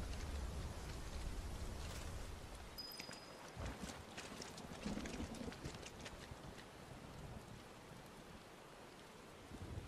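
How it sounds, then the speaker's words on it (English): Steady rainfall in the video game Final Fantasy VII Rebirth, a dense hiss of drops with a few sharper patters and light wind, fairly faint and continuous throughout, with no voices. "the directional sound of the rain and the thunder is actually kind of impressive"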